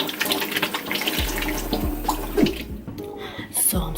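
Water runs steadily from a kitchen tap while hands are scrubbed beneath it, a continuous close splashing wash with brief clatters and a low hum underneath.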